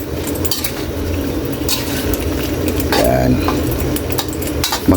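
A pan of pork adobo with oyster sauce being stirred, utensils clinking and scraping steadily against the metal over a continuous background hiss, with scattered brighter clinks.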